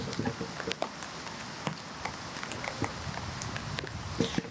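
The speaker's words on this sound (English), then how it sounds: "I don't know if you guys can hear it, but it's raining." Rain falls on a campsite as a dense, continuous patter, with scattered sharper drips and taps on surfaces close by, steady throughout with no voices.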